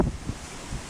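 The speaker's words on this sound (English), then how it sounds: "The wind is really picking up." Strong wind during a January 2014 blizzard, rough low gusts buffeting the microphone in short surges.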